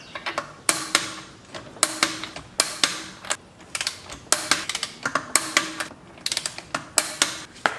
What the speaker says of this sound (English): we're gonna go ahead and torque it to spec, 83 foot-pounds